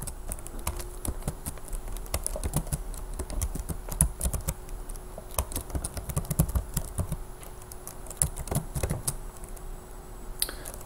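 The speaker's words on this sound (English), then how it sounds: "And so we'll type str" Steady typing on a computer keyboard while entering Python code, with dense, irregular key clicks running throughout at close range and no speech.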